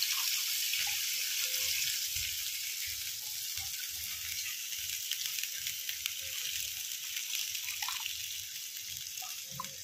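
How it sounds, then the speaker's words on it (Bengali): Water hits fried spices in a pan while cooking rui fish jhal, setting off a steady, bright sizzle and hiss that carries on alone and fairly softly throughout. "এবার আমি আস্তে আস্তে একটু জল দেবো, সামান্য একটু জল।"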